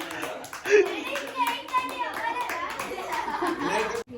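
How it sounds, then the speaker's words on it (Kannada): Family members clap their hands at a New Year party gathering over a meal, a lively patter of claps mixed with children's and adults' chatter throughout. "ಏನಕ್ಕೆ ಚಪ್ಪಾಳೆ ಹೊಡ್ತಿದ್ದು?"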